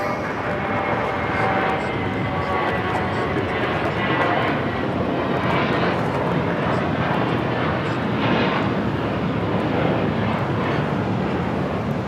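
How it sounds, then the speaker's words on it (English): American Airlines Airbus A321 taking off from Los Angeles airport, bound for Los Cabos: a loud, steady, broadband jet roar that holds at constant strength throughout with no voices. "This is American Airlines 2656 taking off to Los Cabos on the A321."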